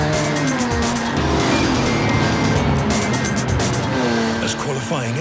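A Trabant race car in qualifying rounds a corner with a steady, loud engine note and tire squeal, a close continuous drone lasting the whole stretch, with a voice talking over it.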